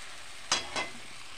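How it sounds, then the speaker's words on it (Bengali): Mutton being fried for pulao sizzles in a pan, with two short bursts of stirring and hissing against a faint steady sizzle, close and quiet. "খুব ভালোভাবে কষে নিয়েছি, মাংস থেকে তেল ছেড়ে দিচ্ছে।"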